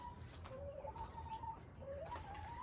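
A hen clucks softly in a wavering, repeated call over a low rumble of background noise, fairly near and moderately loud.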